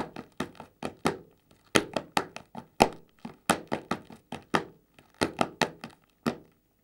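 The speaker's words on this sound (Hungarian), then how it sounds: "Figyeljetek, hogy ne csoszogjatok, határozott legyen a dobbantás." Firm foot stamps from a Hungarian Széki folk dance land in quick rhythmic groups of sharp, close thuds with short pauses between phrases, heard alone without music or voices.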